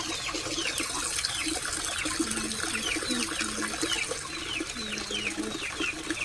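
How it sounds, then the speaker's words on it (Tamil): Water pours steadily from an opened tap pipe while a fighter fish tank is being changed, a continuous gentle rush with bird calls chirping faintly in the background. "தண்ணி பைப்பில் திறந்து விட்றேன்."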